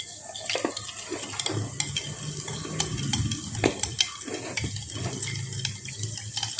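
A spoon scrapes and stirs taro-stem curry with salt around a pan, with soft clinks and a gentle sizzle in steady, close rhythm, no talking.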